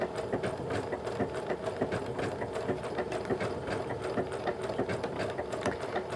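A sewing machine stitches a fusible applique quilt in gentle curves, giving a steady, rapid mechanical chatter of needle strokes that runs the whole time at close range, with no voices.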